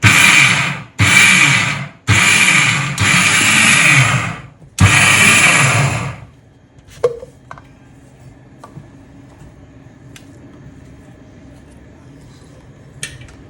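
A kitchen mixer grinder churns soaked dal in repeated loud bursts of a few seconds each, cut by short pauses. Faint clicks and handling noises follow once it stops.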